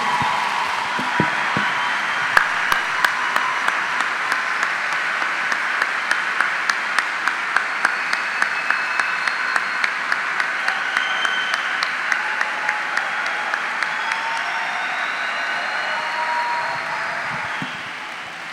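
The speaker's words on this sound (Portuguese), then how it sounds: "nós vamos dar a maior salva de palmas que nós pudermos a esses pastores" A large church conference crowd, with small-group leaders standing, claps for its pastors in sustained, loud, even applause that fills the hall for the whole stretch, with scattered sharper claps standing out.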